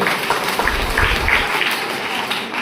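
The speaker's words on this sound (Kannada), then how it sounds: "ಇಟ್ನಾಳ್ ಸರ್ ಅವರಿಗೆ ದಯವಿಟ್ಟು ಒಂದು ಜೋರಾಗಿ ಚಪ್ಪಾಳೆ ಕೊಡಿ" At the opening of a zone-level village sports meet in Veerapura, an outdoor audience claps for headmaster Itnal, giving a sustained, moderately loud round of applause with a few low thumps beneath.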